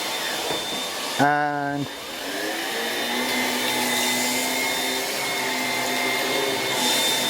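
A Miele Duoflex HX1 stick vacuum cleans a car carpet on its regular suction setting, a loud steady whine and rush running close throughout, with a brief tonal buzz near the start and a short spoken word.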